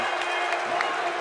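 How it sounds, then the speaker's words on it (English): Crowd noise fills a high school basketball gym in Niles, Illinois, during a varsity game, with cheering and whoops over a steady roar and scattered claps. "The crowd is alive in Niles, Illinois."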